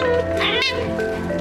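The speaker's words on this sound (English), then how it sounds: "that's my cat saying I should explain more" A pet cat meows close by, with one drawn-out wavering call lasting over a second, fairly loud and heard alone without talk.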